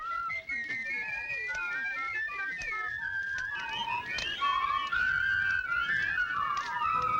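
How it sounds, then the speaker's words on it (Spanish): A person whistles a wandering, melodic tune for several seconds, with other overlapping whistles faintly in the background. "¿Sabes silbar? Sí. A ver, silba."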